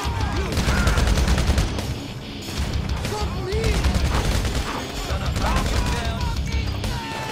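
Rapid machine gun bursts in GTA V Online during a special vehicle cargo mission, loud and sustained across the whole stretch with brief dips, booms mixed in amid game noise and voices.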